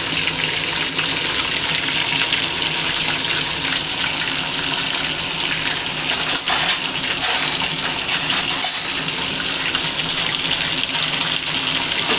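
Pomfret fish just laid into plenty of hot oil, a loud, steady, close sizzle and crackle that holds evenly throughout, with a few sharper spits in the middle.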